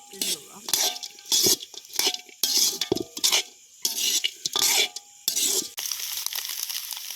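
Fried meat is tossed into shredded idiyappam kothu in a pan, with repeated bursts of scraping and clattering from the spatula against the metal pan under a low sizzle, close and rhythmic, while a person talks between strokes.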